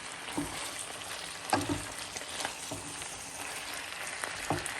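Lamb roast sizzles quietly in a pan with a constant low frying hiss, broken by several soft scraping thumps as it is stirred, close and fairly faint.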